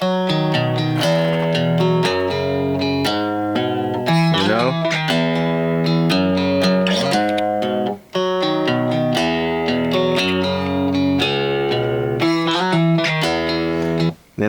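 A produced track made in FL Studio plays an electric guitar VST pattern, bright plucked melodic lines over steady beats, loud and continuous with two brief drops.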